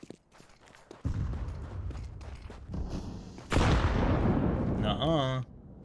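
A grenade goes off in Counter-Strike with a sudden loud blast that fills the mix with harsh noise for a couple of seconds. Scattered gunfire and game effects come before it, and a short electronic warble follows.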